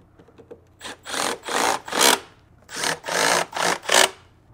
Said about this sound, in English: Now I'll go ahead and screw the gas tank back on.